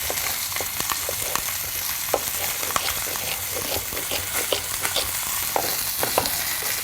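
Lamb hock sears in a hot pan with chopped onion and celery, giving a loud, continuous sizzle and fry broken by scraping stir sounds and small pops.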